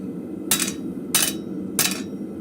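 Three evenly spaced hammer blows ring on metal over an anvil in a blacksmith forge, with the smith straightening a piece on an anvil that is not flat; each strike is sharp and bright against a steady low background hum.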